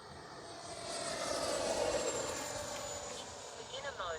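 A Freewing L-15 RC jet on a 4S battery flies at about three-quarter throttle, its steady whooshing ducted-fan roar swelling as it passes nearer and then easing slightly while it stays loud and continuous.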